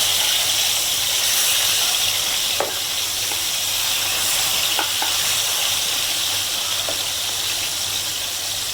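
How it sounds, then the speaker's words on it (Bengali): Fish frying in a pan after being flipped, one side already fried, with a loud continuous sizzle and a few sharp crackles and pops, no talk. "মাছ উল্টিয়ে দিব, এখন এক পিঠ ভাজা শেষ"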